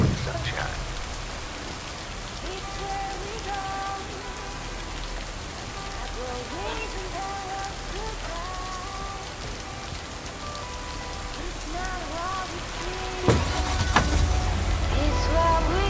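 Rain falls in the video game Lake in a steady patter of drops on surfaces, with a brief louder splash or rumble near the end, under faint background voice and ambient tones.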